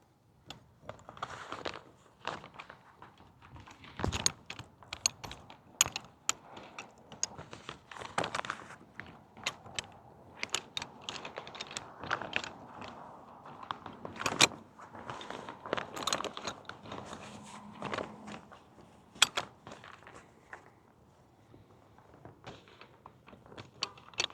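A SunPro portable camping stool is folded up and packed into its carry bag: scattered clicks, knocks, fabric rustles and crinkles come in irregular bursts, close and fairly quiet, with no talking.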